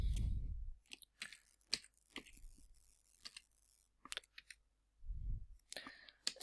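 The Enter key on a computer keyboard pressed several times, giving sharp, close clicks spaced irregularly, with quiet stretches and low murmuring between presses.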